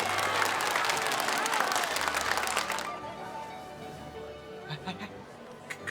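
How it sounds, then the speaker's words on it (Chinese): Wedding guests break into loud, dense applause for about three seconds at a wedding banquet, then the clapping drops away, leaving quieter room sound with faint background voices and music. "请大家用热烈的掌声一起见证新郎新娘这美好的时刻。"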